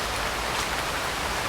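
Heavy, continuous rain drums on leaves and muddy ground in a Singapore woodland reserve, a thick unbroken hiss with faint individual drop taps scattered through it, and no voices.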